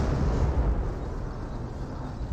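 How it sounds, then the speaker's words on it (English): An artillery shell explodes in the Company of Heroes video game, a loud, deep rumbling blast that rolls on without pause and fades only slightly by the end. "Good artillery hit there, forcing back the Grenadiers"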